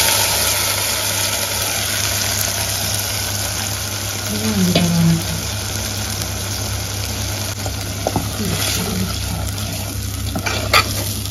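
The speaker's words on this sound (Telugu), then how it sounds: "ఇప్పుడు మనం మిక్సీ పట్టుకున్న మసాలా అంతా వేసేసుకోవాలి." Ground masala sizzling in oil with curry leaves for mutton keema masala balls, a constant frying hiss over a low hum with occasional scraping stir sounds.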